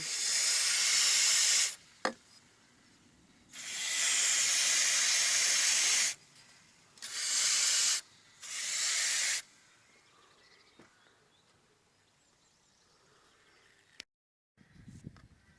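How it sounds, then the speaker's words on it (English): Several long bursts of shock freeze release penetrating spray hissing close by onto a Mercedes E320 CDI W211's glow plugs, with short pauses between them, then quieter handling noises and a click. "we're going to put shock freeze release spray on 3 and 4"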